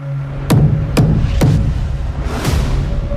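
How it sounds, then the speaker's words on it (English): Three sharp knocks on a door land close together in a played recording, followed a second later by a softer fourth thump. "A knock on the door."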